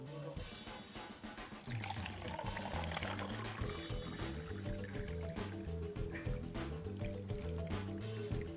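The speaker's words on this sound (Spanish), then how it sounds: "Al vaciar 1 litro de agua en un recipiente más pequeño" Pouring a litre of water into a smaller container gives a steady, gurgling stream that lasts the whole stretch, close and moderately loud, with a rising, bubbly fill tone and no talk over it.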